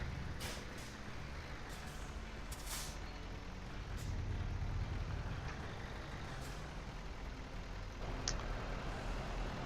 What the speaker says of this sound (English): I was going to try a different sound for the truck engine.